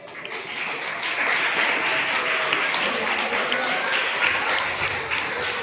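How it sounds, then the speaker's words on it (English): Audience at a foundation day quiz competition claps for the scorekeeper, a sustained wash of crowd applause that swells after the first second and holds steady, with faint voices mixed underneath. "So let's clap for him."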